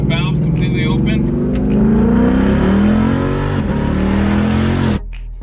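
A 2019 Mustang GT with a Borla Atak active exhaust, valves fully open, revs up loudly and close by, rising in pitch and then dropping off abruptly near the end.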